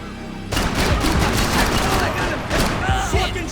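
Heavy gunfire from a Max Payne 3 shootout erupts after a brief silence, with dense overlapping shots and bursts continuing loudly throughout, and a voice shouting over the din.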